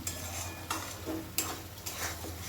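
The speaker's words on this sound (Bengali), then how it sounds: "খুব ভালো করে নাড়াচাড়া করে এখন মশলাটা আবার কষিয়ে নেব" Spice masala being stirred and fried in a pan for a paneer dish with peas and raisins: a soft sizzle under intermittent scraping strokes and light clinks of a spoon against metal, several separate stirs.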